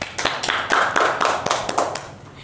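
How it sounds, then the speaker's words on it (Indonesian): Audience applause for a student president at Universitas Borneo Tarakan during a relaxed podcast chat, a short burst of many hands clapping in quick irregular rhythm, fairly close and steady for about two seconds before tapering. "Mungkin bisa kasih aplaus dulu terhadap Presma kita."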